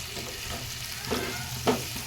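Chopped tomato fries in a pan for a masala omelette, making a continuous close sizzle with a couple of brief stirring scrapes over it.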